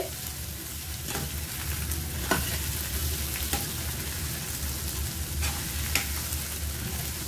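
Eggplant sautéing in a pan for garlic brinjal kulambu gives a steady close sizzle throughout, with a few sharp scrapes and clacks of stirring scattered over it and no talking.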